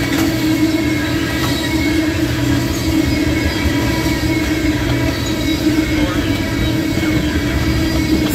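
Norfolk Southern train 64E rolls past at Karns, Pennsylvania, with a string of tank cars producing a steady, loud rumble and rail clatter that runs the whole time, and a voice is faintly heard over it.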